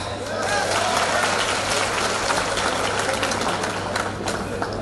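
A crowd at a political rally of teacher-job candidates applauds, a dense, continuous wash of clapping that holds steady and fairly loud throughout.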